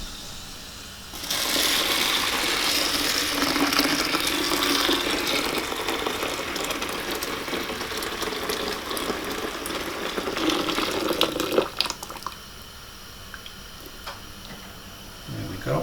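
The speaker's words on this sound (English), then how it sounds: "So I'll get the boiling water on these" Boiling water poured from a kettle onto pigeon conditioner for carp fishing, a sustained close gushing splash lasting about ten seconds before tapering off to quiet.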